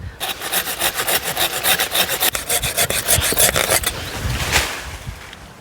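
A saw cuts through a mango tree trunk being prepared for bark grafting, with rapid, rhythmic, close back-and-forth strokes for about four seconds before stopping.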